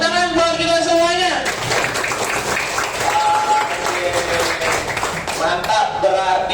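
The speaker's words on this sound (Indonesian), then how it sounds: "Tepuk tangan buat kita semuanya." A class of fifth-grade schoolchildren applauds together in a dense, steady burst of handclaps after a teacher speaks. The clapping is fairly loud and close and runs for several seconds, with the voices of children and adults mixed in.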